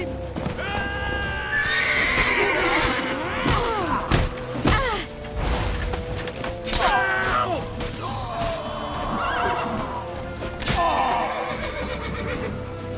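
Several loud horse neighs and whinnies in The Witcher 3: Wild Hunt ring out over a busy backdrop of hoofbeats, thuds and crashes, with a steady music bed underneath.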